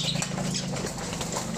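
A pet pigeon, kept by a beginner free-flight trainer, beats its wings nearby in a quick, fluttering patter that lasts under two seconds.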